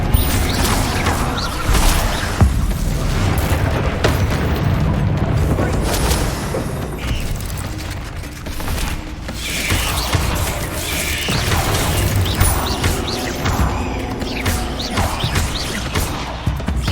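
Spell blasts from Bombarda and Confringo in the video game Hogwarts Legacy, a dense run of booming explosive impacts and crashes over continuous combat noise, loud and sustained.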